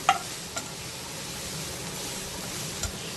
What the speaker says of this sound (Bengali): কিশমিশটা দেওয়ার পরেও 1 থেকে 2 মিনিট এইভাবে নাড়তে হবে।